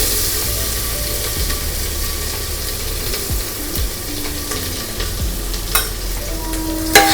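Cumin, grated ginger and garlic sizzling and being stirred in butter in a pan, a steady close frying hiss with occasional scrapes of the spoon and a sharp clink near the end.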